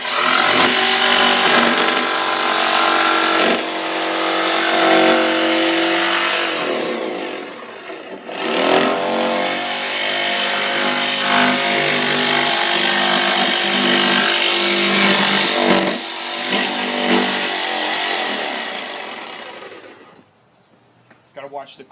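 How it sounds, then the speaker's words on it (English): Jigsaw cutting a circular hole in a wooden cornhole board, a loud, sustained buzzing rasp that runs steadily for about twenty seconds with brief dips as the cut turns, then winds down. "Grab the jigsaw here."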